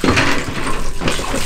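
Water runs steadily from an old public village tap dating from 1960 in Krimini, Voio, Greece, a continuous splashing flow close by.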